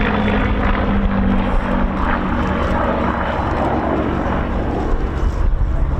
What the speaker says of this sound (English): Merlin engines, 2 of them synchronized